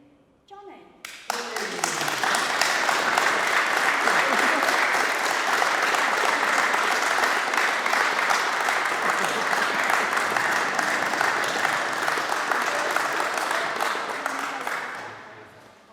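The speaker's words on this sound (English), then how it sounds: "the surprise of the day, admin choice, is going to Johnny." Sustained crowd applause and clapping at an Audi TT Mk1 rolling road day as an award is given, loud and steady, swelling quickly and fading at the end, with faint voices underneath.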